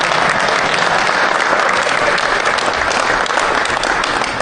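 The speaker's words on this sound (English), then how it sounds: "And clap for me." Loud, dense applause from an audience fills the whole stretch, steady and close, with no pauses or speech over it.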